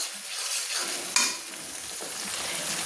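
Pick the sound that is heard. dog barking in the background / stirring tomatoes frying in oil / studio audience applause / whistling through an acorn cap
stirring tomatoes frying in oil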